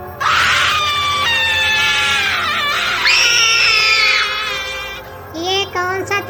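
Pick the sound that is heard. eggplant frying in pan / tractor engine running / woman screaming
woman screaming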